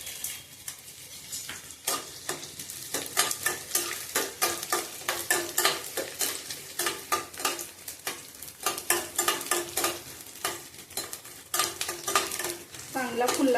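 Edible gum (dink) frying in ghee in a pan for ladoos: a continuous sizzle broken by frequent sharp clinks and scrapes of a spoon stirring against the metal, fairly close and loud, with no talking.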